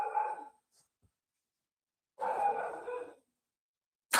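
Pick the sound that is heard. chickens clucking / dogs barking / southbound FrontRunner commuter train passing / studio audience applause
dogs barking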